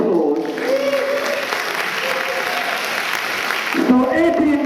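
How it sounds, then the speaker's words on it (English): An audience at an award ceremony claps steadily for several seconds, a dense wash of applause that thins toward the end as a voice begins to speak. "Please give him a round of applause"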